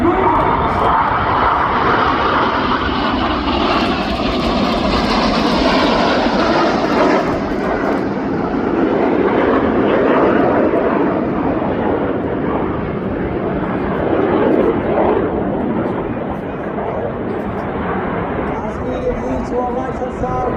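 Red Arrows jet aircraft performing a flying display at the RIAT 2025 airshow, a loud continuous engine roar that surges and slowly fades across twenty seconds, with a voice at times over it.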